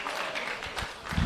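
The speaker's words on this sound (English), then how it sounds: "nice applause from the" Home fans applaud at a Bayswater City versus Inglewood United football match as a substitute comes on, a brief spell of scattered clapping from the stands at moderate distance.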